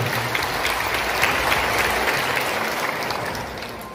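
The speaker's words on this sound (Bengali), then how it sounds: "তাই বলেছি যে একটা জুড়ে হাততালি দেওয়া" An indoor audience at a Beti Bachao Beti Padhao meeting in Vivekananda Bhavan, Dharmanagar, claps in loud, dense, sustained applause that fades slightly toward the end.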